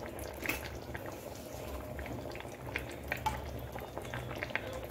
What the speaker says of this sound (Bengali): আমি আর এইভাবে আরো 10 মিনিট মাংসটা রান্না করে নেব